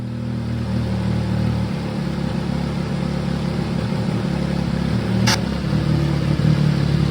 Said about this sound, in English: Now I'm just going to turn the bike back on one more time.